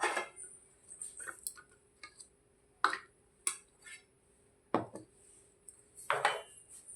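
A spoon knocks and scrapes in a pan while a sweet is stirred and moved onto a plate, a few soft, sparse clinks spaced apart over a faint steady hum.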